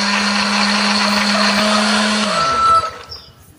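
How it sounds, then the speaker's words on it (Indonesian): A blender grinds a spice paste with a little water, whirring loudly and steadily at close range, then winds down and stops near the end, with no voices. "tambahkan sedikit air supaya lebih gampang untuk menghaluskannya"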